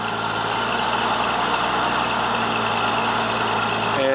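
A forklift's steady idling engine runs on a Cam Superline 8CAM20 split tilt trailer as the deck tips, a continuous low mechanical drone holding even and close throughout.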